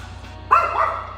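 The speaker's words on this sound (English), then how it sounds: "Different place, same bark." A single sharp, loud bark from a dog indoors in a new apartment, close to the microphone and over a faint steady electrical hum.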